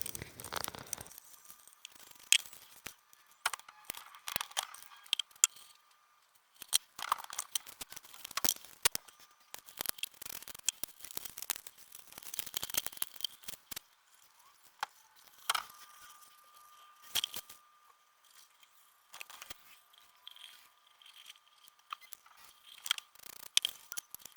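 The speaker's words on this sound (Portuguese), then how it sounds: "nessa parte eu aproveitei para cortar só as rebarbas que tinham ficado, que acabaram sobressaindo o limite do volante" Scissors or a blade trimming excess cardboard edges from a handmade cardboard Formula 1 steering wheel, heard as irregular close snips and scraping crinkles with short pauses, no voices.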